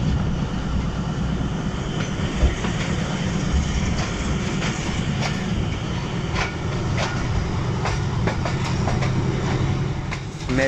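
A Pakistan Railways passenger train on the Lahore to Narowal line runs along the track, heard from on board as a steady close rumble with repeated clickety-clack beats from the wheels over rail joints and no voices.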